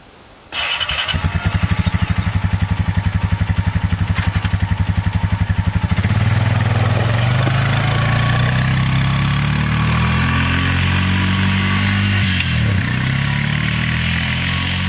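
A John Deere 3025e compact tractor's diesel engine cranks and catches, then settles into a steady, close rumble. Its pitch rises and shifts as the tractor pulls away and drives off. No one speaks.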